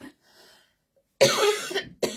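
One loud cough in two harsh bursts, then a short second cough follows, after a faint murmur at the start.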